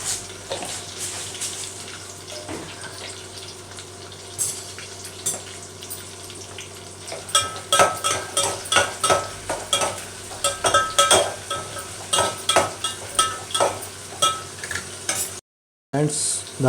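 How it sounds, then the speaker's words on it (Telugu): Curry leaves, ginger-garlic paste and tempering seeds frying in hot oil for a gongura fish curry, with a steady sizzle and crackle. Bursts of stirring and scraping come in the second half, with a brief silence near the end. "దాంట్లోకి కరివేపాకు, అల్లం వెల్లుల్లి పేస్టు, కొంచెం పచ్చివాసన పోయేదాకా వేయించుకోవాలి."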